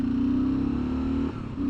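A 2024 Kawasaki KLR 650 motorcycle engine runs steadily at a strong, close drone, then its pitch dips briefly as the throttle eases before resuming.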